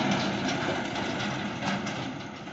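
A small tractor engine running steadily in a large open field where soil is being dug, a continuous close mechanical drone with no talk.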